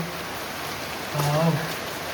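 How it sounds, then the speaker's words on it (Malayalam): Steady rain falls with a soft, even patter, while a voice briefly speaks over it. "മഴ പെയ്തു, മഴ പെയ്തു."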